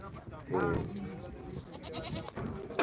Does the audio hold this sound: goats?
yes